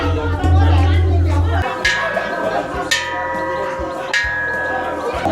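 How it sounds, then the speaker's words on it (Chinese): A temple bell is struck repeatedly during the Dai New Year festival, three ringing strikes with long sustained tones, under a steady low hum and background festival chatter. "你看那边人家在敲钟"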